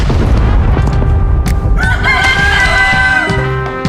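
A rooster crows in a stretched, harmonic call in the video game PUBG amid dense, loud background noise, rising midway and trailing off near the end.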